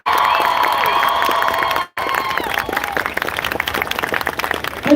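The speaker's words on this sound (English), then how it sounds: "Can we give them the biggest round of applause" A protest crowd claps and cheers in support of Palestinians, with shouts and whistles over loud, dense applause; a brief drop in the middle, then the clapping swells again.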